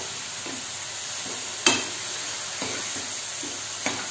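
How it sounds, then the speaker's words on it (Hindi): Masala spices frying in oil for stuffed bitter gourd, a steady close sizzle with occasional scraping stir strokes and one sharp clack of the spoon against the pan. "इसको तब तक भूजेंगे जब तक इसमें से तेल ना निकले, तब तक मसालों को भूनेंगे।"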